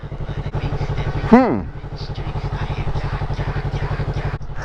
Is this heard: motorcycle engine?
yes